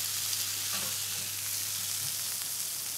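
Potatoes laid in a single layer in a hot pan fry with a steady, dense sizzle and crackle, close and continuous, with a faint low hum underneath and no one speaking.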